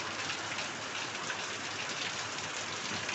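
Steady rain pours down in a village, a dense unbroken hiss of drops on surfaces holding even and fairly soft for the whole stretch, with no voices.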